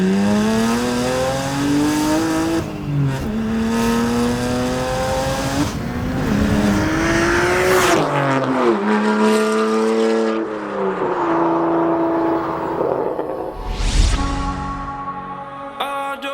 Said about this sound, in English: do you guys want to hear a straight piped